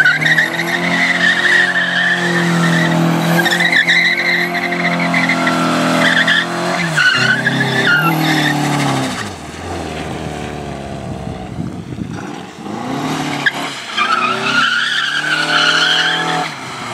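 A Mazda Miata with a welded differential skidding, with long, loud tire squeals and engine roar rising and falling through several slides, briefly easing off midway before the screeching returns.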